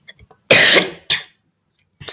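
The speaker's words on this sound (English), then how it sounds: "Sorry guys, I have a cough." Two harsh coughs close to the microphone, the first longer and the second shorter, with a brief pause and quiet before and after.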